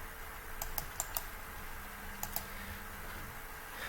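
Faint keystrokes on a computer keyboard while a database select query is entered, a few scattered clicks in two short clusters over a quiet room hum.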